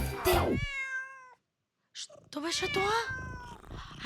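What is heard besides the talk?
cat meowing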